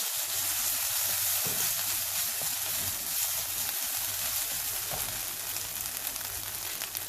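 Tomato paste sizzles in a hot pan for tacos, a steady bright frying hiss that holds close and fairly loud throughout, with faint stirring knocks now and then.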